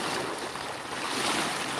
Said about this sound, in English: it's pretty choppy out here